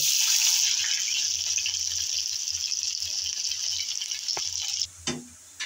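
Onion and garlic frying in hot oil in a wok, giving a steady, loud broadband sizzle that holds for most of the clip, then a few clattering knocks near the end.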